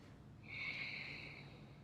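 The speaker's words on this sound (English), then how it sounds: "And through your nose, exhale" A slow, deep exhale through the nose during yoga practice, a soft breathy rush swelling and fading over about a second, close and quiet.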